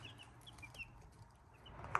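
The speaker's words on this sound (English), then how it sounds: "We got 2 chickens that came to us." A pair of chickens clucking on a small garden farm, faint and fairly distant, with soft intermittent clucks over quiet outdoor background.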